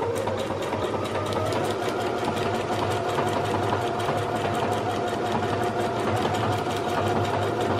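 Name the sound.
Singer 6805 sewing machine stitching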